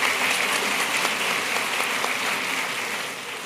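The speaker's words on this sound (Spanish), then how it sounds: "al cual vamos a recibir con un aplauso, por favor" Audience at a spiritual leadership seminar applauding to welcome a pastor to the stage, a dense, even wash of many hands clapping, steady and loud for a few seconds before tapering slightly.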